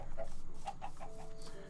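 Chickens in the Minecraft video game cluck in a few short, close calls over a quiet background, with no talking.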